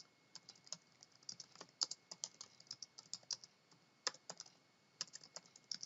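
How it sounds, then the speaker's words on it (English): Quiet, irregular typing on a computer keyboard, with soft scattered keystrokes and a few louder clusters, close by in a still room with no talk. "Apparently I can't type very well today."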